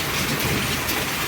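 Hailstorm with heavy rain, a dense, steady roar of hail and rain pounding surfaces, loud and continuous with no pauses, no voices.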